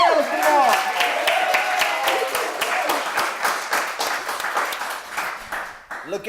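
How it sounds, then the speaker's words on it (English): A studio audience applauds guest Cayla Kumar on a talk show: steady, dense clapping that stays loud throughout and fades slightly at the end. "Big round of applause for Miss Cayla Kumar."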